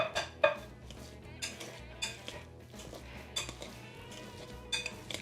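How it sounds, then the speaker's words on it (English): A potato masher works through steamed sweet potatoes in a bowl for a gluten-free flatbread, giving repeated soft clinks and knocks against the dish at an irregular rhythm, close and moderately quiet. "I've started mashing those. Just using my potato masher."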